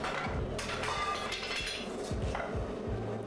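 Hammer blows on an anvil while forging a leaf spring steel combat axe, a series of sharp metallic clinks ringing out at a fairly steady pace, somewhat distant.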